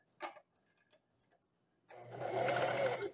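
A Singer Facilita Pro sewing machine sews near the edge of the fabric, a close, loud, steady whirring run in the last second and a half, preceded by a brief tap and near quiet.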